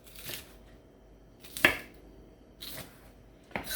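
Knife cutting squid into two-inch lengths on a cutting board, a few separate chopping strikes spaced about a second apart, close and fairly quiet.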